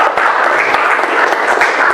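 A short burst of lively applause from a high school classroom full of students, dense rapid clapping at steady strength throughout.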